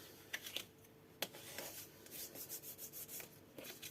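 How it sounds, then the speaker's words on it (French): Paper folds being creased for a basket craft, soft quiet rubbing and rasping strokes with a few crisp ticks, close and faint. "maintenant, on va bien marquer les plis."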